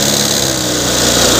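A Suzuki Access 125 scooter with a 125 cc engine and a late-starting problem runs steadily, loud and close, with an even buzzing drone and no pauses.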